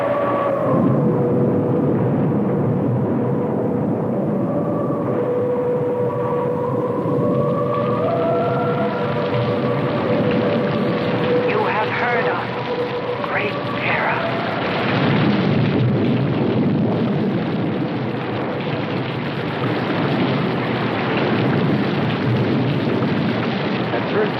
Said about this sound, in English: pay much attention to the rain, though it seemed heavier than any rain we'd ever seen.